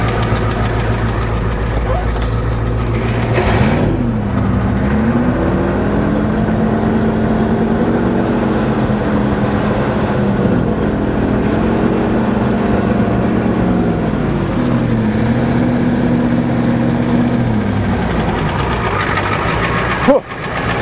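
An old Ford truck engine with 402,000 kilometers on it, misfiring, idles loudly up close, then revs in a couple of swells that rise and fall before dropping back to a rough, steady idle.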